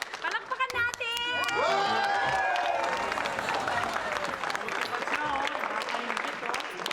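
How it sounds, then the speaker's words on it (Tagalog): A crowd bursts into loud applause and cheering, with shouts and voices rising over the clapping throughout. "Palakpakan natin!"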